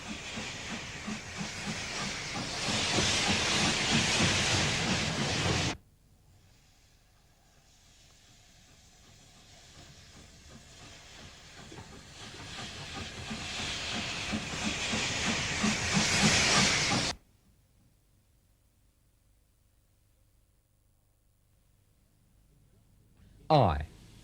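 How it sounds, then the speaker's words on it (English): A steam locomotive working a soon-to-close line through the Kent countryside gives off a loud, steady hiss of steam that cuts out abruptly, returns and builds again, then stops, leaving quiet with a brief sharp noise at the end. "The train wends its way through pleasant Kent countryside over a line that was soon to be closed"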